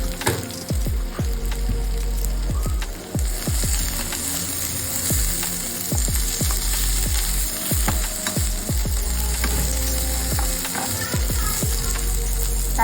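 Onions frying with salt in a pan for chutney, with a continuous loud sizzle and repeated stirring scrapes at an uneven pace.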